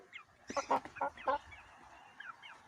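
Poultry calling nearby, a burst of three or four loud honking, clucking calls in quick succession, followed by fainter scattered calls against a quiet background.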